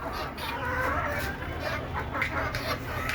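Free-ranging desi chickens on a small farm cluck in a busy, overlapping chorus close by over constant background noise.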